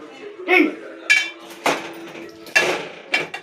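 A metal ladle clanks and scrapes against a cooking pot while food is stirred, with about five sharp, separate knocks spaced through the stretch, close by and fairly quiet.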